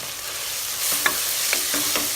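Chopped coriander and mint hitting a pan of softened tomato for chicken biryani, a faint background sizzle broken by a few distinct stirring scrapes in the second half.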